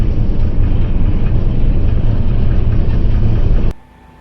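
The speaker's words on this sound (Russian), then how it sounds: "Нагрелся движок в гору." A tractor hauling hay through a snowstorm, its engine heated from the climb uphill, drones loud and close in a steady heavy rumble before cutting off abruptly near the end.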